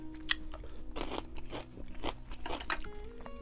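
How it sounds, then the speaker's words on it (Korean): Close-up chewing of gray mullet sashimi eaten with pickled vegetables, with several crisp crunchy bites at irregular intervals over a few seconds and faint wet mouth sounds between them, no talking. "장아찌랑 같이 먹도록 할게요"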